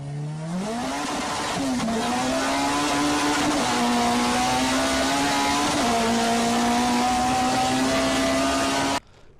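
A loud, steady engine drone with a strong rising-then-level tone, like an aircraft passing close overhead, sustained for several seconds before cutting off abruptly.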